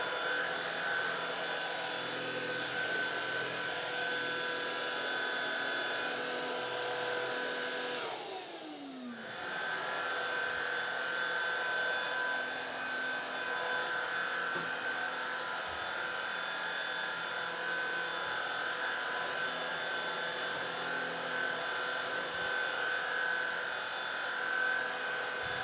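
Oraimo UltraCleaner S cordless vacuum cleaner running in normal mode, a steady close whine with a constant motor hum that briefly dips once partway through, then holds level to the end.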